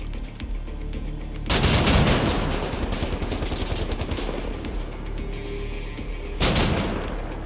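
Shotgun blasts in the video game Wolfenstein: The New Order boom loudly, one heavy burst rolling on for several seconds before a second sharp blast near the end.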